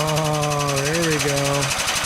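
A hands-free pneumatic shop press runs off a foot valve, giving a loud, steady buzzing drone with a rapid mechanical pulse and a tone that wavers before cutting out near the end.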